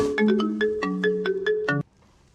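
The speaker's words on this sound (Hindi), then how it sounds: "सरदार, चड्डा रेड्डी का फोन आया है।" A phone ringtone plays a quick run of bright electronic beeping notes in a steady rhythm, then cuts off abruptly.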